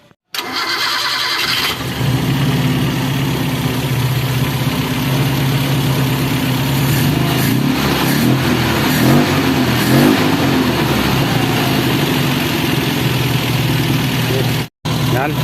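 A Toyota 4K engine idles roughly with a shaky run after an overhaul, a steady, loud, close rumble that holds unbroken for most of the stretch before cutting out briefly near the end.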